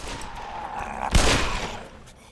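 A single sharp gunshot bursts out mid-clip, loud and close, against constant in-game ambient hiss and hum during a session of the video game Black Mesa, a remake of Half-Life.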